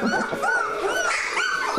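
Newborn golden retriever puppies, only a day or two old, whimper and squeak close by in a continuous chorus of high, wavering cries, with a faint voice in the background.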